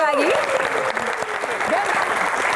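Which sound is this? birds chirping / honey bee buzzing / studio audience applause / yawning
studio audience applause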